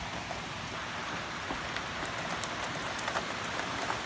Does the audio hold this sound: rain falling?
yes